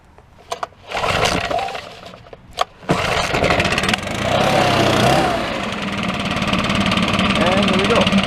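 A 1965 Lawn-Boy C-19 commercial lawn mower engine is pulled a few times with short sputters, then catches and settles into a loud, steady two-stroke run close by.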